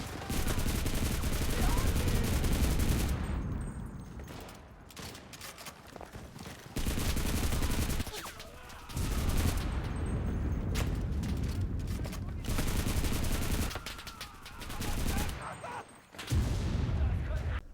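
Sniper MKB rifle fire in the Enlisted video game's Stalingrad German campaign, loud rapid bursts of gunshots repeating in volleys with brief pauses, close and dense, sometimes joined by other battle noise.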